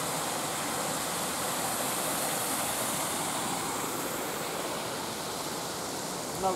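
Continuous rushing water from a small waterfall, a steady broadband hiss with no pauses, fairly close and even in volume.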